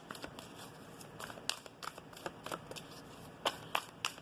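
Tarot cards are shuffled in quick, crisp riffling bursts with soft flicks between them, close and fairly quiet.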